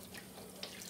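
Cold tap water running from a faucet into a bowl of cabbage during kimchi preparation, a steady close hiss of flowing water for about a second with no talk.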